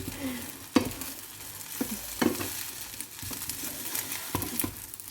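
Oil sizzles steadily in a pan while bottle mushrooms fry, broken by a few sharp clatters and stirring scrapes.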